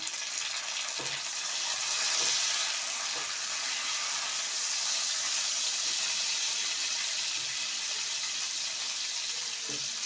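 Tomato frying with browned onions in an oily pan, a continuous soft sizzle and hiss with a few light knocks of a spoon, no voices.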